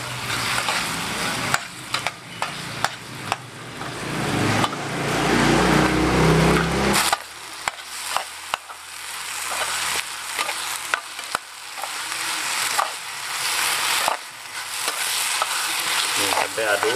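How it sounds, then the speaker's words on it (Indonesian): Spicy Korean-style fried noodles with sesame seeds tossed in a pan, a loud hissing fry with repeated scraping, clacking spatula strokes; the sizzle swells heavily for a few seconds then drops to a lighter crackle under continued stirring. "Kita aduk-aduk atau digalo-galo ya."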